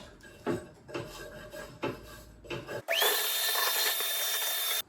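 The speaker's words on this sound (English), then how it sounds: "The fan blades can also be gently brushed." A brush rubs the fan blades of a Vogelzang VG5770 pellet stove in four rough, scraping strokes. A loud, steady whine of a power drill then starts and runs on.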